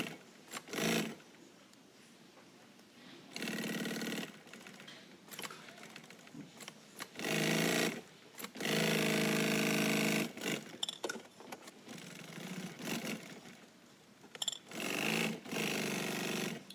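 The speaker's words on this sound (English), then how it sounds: "you're going to fold that fabric in half and sew all the way around again. This is forming the back pocket." A sewing machine stitches around folded fabric to form a back pocket, running in loud bursts of a few seconds each, separated by brief pauses, close and alone without talk.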